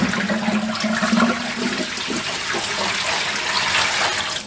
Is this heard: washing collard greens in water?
yes